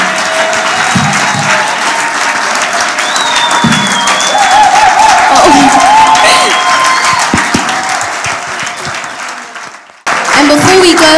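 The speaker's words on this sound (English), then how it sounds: "Can we give them a round of applause, please." A crowd at a 2024 resurrection-themed thanksgiving event applauds and cheers loudly for over ten seconds, with scattered whistles and voices mixed in, before it briefly cuts out and resumes.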